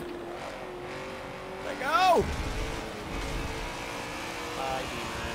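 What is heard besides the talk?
6.4 liter V8 car engine drifting in video game Forza 7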